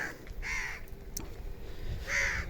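Crows drawn by the smell of meat give two loud, harsh caws, one early and one near the end, over a low outdoor background rumble.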